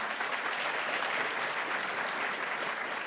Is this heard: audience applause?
yes